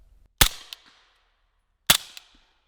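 A suppressed firearm fires two subsonic rounds, each a sharp, close crack with a short metallic follow-up and quick decay, spaced about a second and a half apart with no talking.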